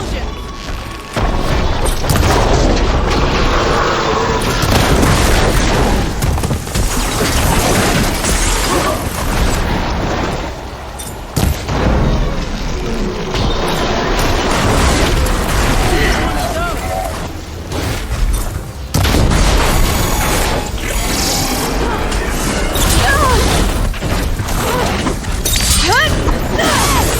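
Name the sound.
explosions in the video game Horizon Forbidden West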